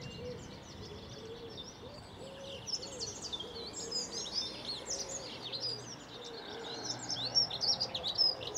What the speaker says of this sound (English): As that dunnock there will testify.